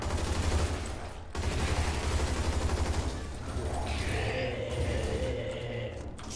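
Heavy weapon gunfire in the zombie shooter game ZMR, a dense continuous loud fusillade of rapid shots, dropping briefly then resuming with mechanical whirring toward the end.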